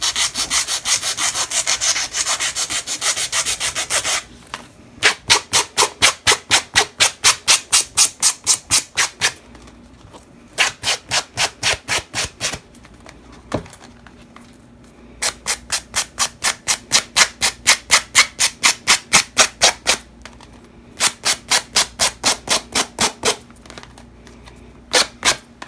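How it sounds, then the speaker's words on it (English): A fingernail file scrapes across paper in rapid rhythmic bursts of rasping strokes, several separated runs with short pauses between them, close and fairly loud, no voices. "I'm gonna grab a fingernail file really quick."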